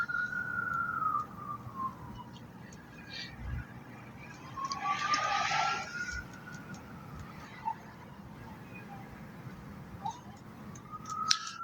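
Police siren wailing in the distance, a faint rising and falling tone that sweeps slowly across the whole stretch beneath low background noise.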